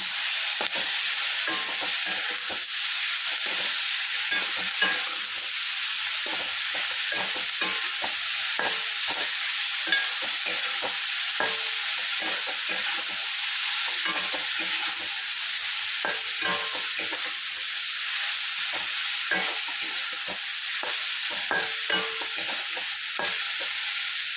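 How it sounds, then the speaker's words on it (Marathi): Tomatoes are sautéed in a pan, with a steady bright sizzle of frying and frequent close scraping and clacking of a spoon stirring through them. The stirring runs continuously for a long stretch with no talking. "तर आपण आता टोमॅटो असं छान असं यामध्ये परतून घेऊया."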